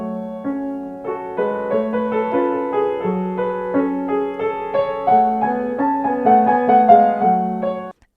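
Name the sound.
piano playing Bach with too much sustain pedal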